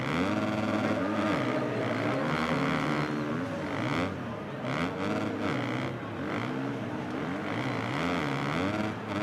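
Dirt bike engine in a supercross racing game, a loud buzzing drone rising and falling with throttle over jumps, continuous and close with faint talk underneath.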